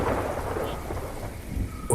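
Rain pours steadily with a deep rumble of thunder rolling underneath, dense and close, setting a stormy mood for a horror story.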